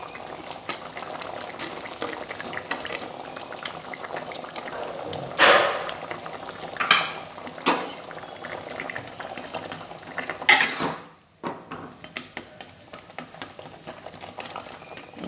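Chana dal wada curry, made with kasuri methi and coriander leaves, bubbles steadily in a pot, with several sharp utensil clinks and stirring clatters breaking through the continuous boiling hiss.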